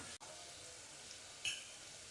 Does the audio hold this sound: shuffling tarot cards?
no